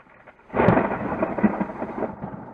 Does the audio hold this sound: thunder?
yes